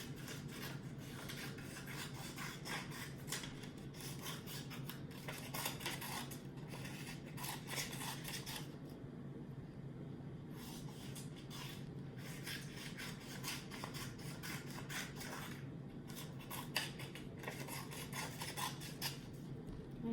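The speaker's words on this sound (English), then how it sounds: "This does take a little while to cut all of these stripes." Scissors snipping through paper to cut stripes, a dense run of crisp rasping cuts close up, in bursts with brief pauses, no talk.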